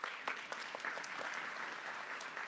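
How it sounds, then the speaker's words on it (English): A crowd at an elementary and middle school ribbon cutting ceremony claps in a dense, steady burst of applause, heard from a distance and fairly faint. "So give yourselves a round of applause."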